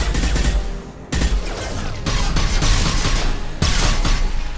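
Rapid bursts of gunfire in Mass Effect 2 fill the whole stretch, loud and dense, with brief gaps between volleys.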